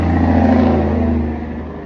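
A semi truck passing by nearby, a loud low rumbling engine drone that fades away as the truck moves off.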